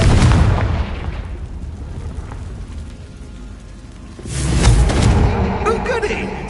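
Confringo blasting spell from Hogwarts Legacy, a heavy booming explosion that hits at once and decays over a few seconds, then a second loud crackling burst with debris.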